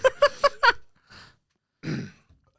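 A young man lets out a burp after eating mayo, a low rough belch around two seconds in, following several short vocal bursts at the start and a faint grunt earlier.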